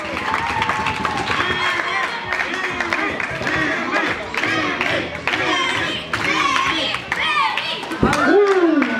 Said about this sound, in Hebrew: תעשו קצת כפיים